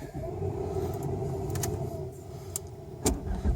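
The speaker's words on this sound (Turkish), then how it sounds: "aracı çalıştırın" A manual-transmission car with a snapped clutch cable, started with the key while parked: low steady engine hum with a few short sharp clicks and a jangle of keys near the end, close and without talk.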